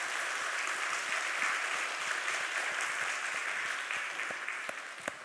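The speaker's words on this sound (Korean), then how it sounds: "박수" Churchgoers clap enthusiastically during a Sunday Parents' Day worship service, a sustained crowd of hands that stays full and even, then thins slightly near the end.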